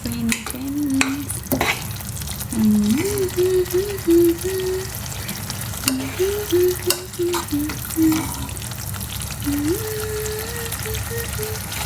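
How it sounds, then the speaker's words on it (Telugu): Masala gravy for prawn curry frying in a pan, a steady close sizzle with repeated scraping stirs and occasional clinks, while a voice talks intermittently over it. "పచ్చివాసన పోయేదాకా ఫ్రై చేసుకున్నాం"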